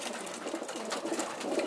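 A racing pigeon cock bird cooing softly in a loft, giving a faint, low, continuous burbling coo with no talk over it.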